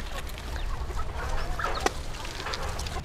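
Chickens cluck steadily on a farm in Vietnam, being fed bought-in garden produce, a busy flock murmuring close by with a brief sharper squawk partway through and no voices.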